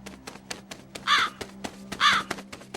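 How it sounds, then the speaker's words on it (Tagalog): Two loud, harsh crow caws ring out one after the other over a steady low hum and scattered soft taps, in a nighttime setting during a tale of a folk healer hunting aswang. "Yan ay uwak ko."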